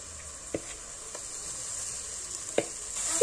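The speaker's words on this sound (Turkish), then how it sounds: "Biraz da patatesi kavuruyorum." Grated potatoes frying in flour in a pan, a steady soft sizzle with a few sharp scrapes of stirring, quiet and close, with no voices.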